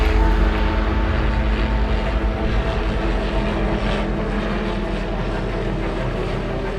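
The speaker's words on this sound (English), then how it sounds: "The helicopter circles the elephant herd, rounding them into small groups." A helicopter circles low over an elephant herd, rounding the animals into small groups. Its loud, continuous engine and rotor drone holds steady throughout with no talking.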